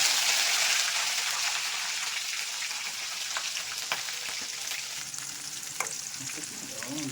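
Curry leaves, chillies and onion fry in hot oil for chitranna, a dense, even crackling sizzle up close, broken by a few light stirring clicks, with nobody talking.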